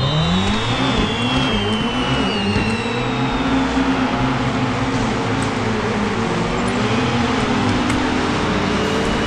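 Water scooter engines whine loudly at the start of a race in the Riptide GP 2 video game, a dense continuous buzz with rising and falling pitch sweeps as the machines accelerate together.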